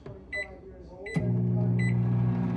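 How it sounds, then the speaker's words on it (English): A weak home microwave oven hums steadily while heating a mug cake, its low drone starting after a couple of short clicks and beeps, close and continuous. "It says you're meant to cook it in the microwave for 70 to 90 seconds"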